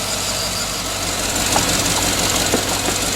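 A car engine idles with a slight shake, a steady mid-pitched running drone with faint knocking pulses, heard close and alone without talk.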